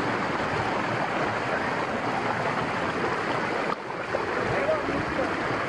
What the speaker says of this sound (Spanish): Mira qué cascada.